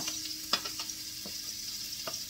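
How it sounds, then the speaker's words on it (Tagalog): Onion goes into a hot pan and fries with a soft, steady sizzle, punctuated by a few sharp clicks and scrapes of stirring, close but quiet. "Lagay natin ang sibuyas."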